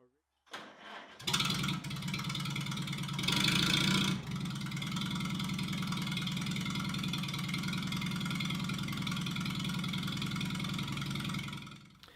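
A Farmall tractor engine starts up with a brief cough and catch, then settles into a steady, loud, close idle that runs unchanged for several seconds before cutting off at the end.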